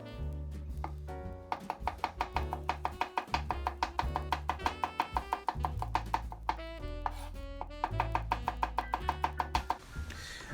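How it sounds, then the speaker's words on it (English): A knife chops shallots finely on a board in quick, even strokes that come as a long run of sharp taps, near and clear, with a brief pause before the rhythm picks up again. "I'm just finely chopping them carefully without chopping off my fingers"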